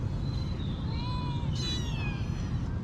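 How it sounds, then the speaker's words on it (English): Kittens and their mother cat in a basket meow in thin, high, wavering calls, several overlapping, heard close and fairly soft over steady background noise. "So we have kittens in a basket here."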